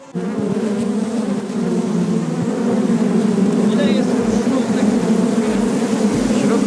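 Honeybees buzz in a thick, continuous drone close by, a steady swarm hum at the hive with no pauses.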